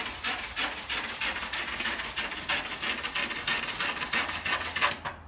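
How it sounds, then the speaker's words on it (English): Stainless steel wire brush scrubbing the oxide layer off aluminium before MIG welding, a steady close-up rasping scrape of rapid repeated strokes that runs continuously without talk. "So I'm going to use a stainless steel wire brush just to take any oxide layer off the surface."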